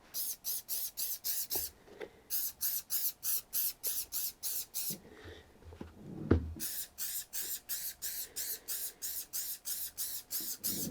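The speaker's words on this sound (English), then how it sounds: "And then I'm going to spray it with mink oil." Mink oil sprayed onto Air Jordan 1 Travis Scott Reverse Mocha sneakers in a large studio, short hissing bursts repeated in quick rhythmic runs with a brief pause and a soft knock midway, close and clear.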